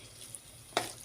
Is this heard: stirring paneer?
yes